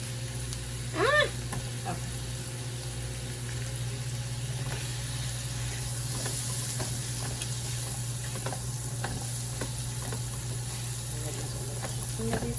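Butter melting in a pan while making a roux for smothered chicken gives a steady, even sizzle under a constant low hum, with a few faint clinks and no talking.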